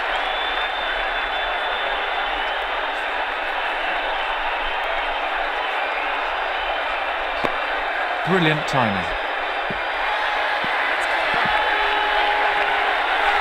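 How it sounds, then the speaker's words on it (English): Crowd applause from a cricket match in the video game Ashes Cricket, England vs Australia, a steady broad wash of clapping that runs throughout beneath a commentator's voice. "The crowd applaud a great knock."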